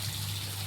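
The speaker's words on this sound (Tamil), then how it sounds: "அந்த புளி தண்ணியை ஊற்றிக்கிறேன்" Tamarind water pours steadily into a cooking pot, a continuous close trickling wash with no voices.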